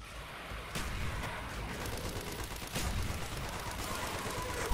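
Gunfire and grenade blasts from the Call of Duty zombies map Kino der Toten sound as a few sharp bursts over a dense, noisy game soundscape, fairly quiet overall.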